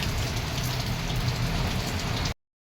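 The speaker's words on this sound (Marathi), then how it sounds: "तुफान पाऊस आहे" Heavy monsoon downpour in Mumbai's Sakinaka area, a dense, steady hiss of rain striking surfaces that holds at an even level for about two seconds, then cuts off abruptly into silence.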